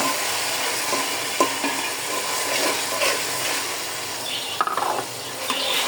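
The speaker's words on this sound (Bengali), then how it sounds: "এটা অনেকক্ষণ ভাজতে হবে ভাজলে আরও সুন্দর কালার চলে আসবে আমি একটু নাড়াচাড়া করতেছি" Chicken biryani masala is stirred and fried in a pan, a steady loud sizzle broken by scraping spoon strokes, with no voices.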